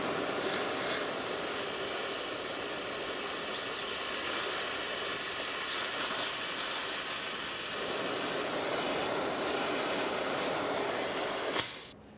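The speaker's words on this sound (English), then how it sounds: "Now we'll continue on with a fluid extraction pump." Fluid extraction pump drawing old brake fluid from a 1994-1997 Honda Accord, a steady airy hiss and suction rush holding level for about eleven seconds before cutting off abruptly.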